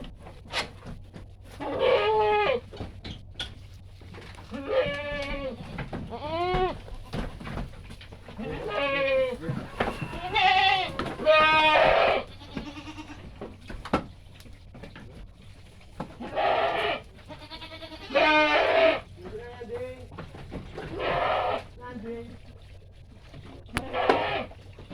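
Etawa and bligon goats bleat from a small pen, repeated wavering cries in bursts close by, some overlapping, with quiet gaps and a low hum beneath.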